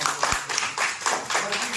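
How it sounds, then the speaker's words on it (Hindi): A crowd at an honors ceremony for union officials applauds with steady, dense clapping throughout, while a voice talks over it in Hindi. "इनके लिए जोरदार तालियां हो जाए"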